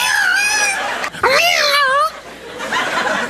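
A voice imitating a rooster crow, a loud rising and falling warbled call close to the mic, with laughter and chatter around it.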